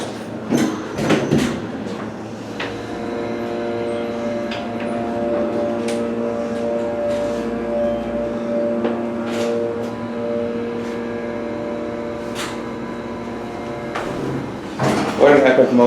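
The Sykes Creek elevator's motor hums steadily through the ride up to the second floor, a sustained tonal drone framed by clunks and rattles at the start and end, with voices nearby.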